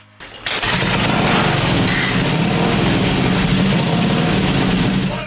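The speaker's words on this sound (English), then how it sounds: "Imagine firing up this piece of history and hearing that engine roar." Crocker Big Tank vintage motorcycle engine catching after a brief start and settling into a loud, steady running drone, close and unbroken, with no talking.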